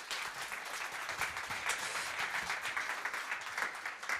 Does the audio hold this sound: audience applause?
yes